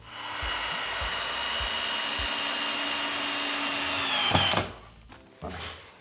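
A cordless drill whirs steadily for about four seconds, driving screws through wooden battens into crossbars, then stops with a few dull knocks and a short second burst, close by with no speech.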